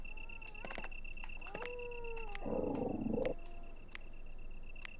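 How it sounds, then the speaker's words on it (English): A zombie dog's eerie howl in the Sega Saturn game Resident Evil: drawn-out, wavering tonal cries over a steady background hum, with a brief louder growling rush near the middle. "Do we get the howling sound effect?"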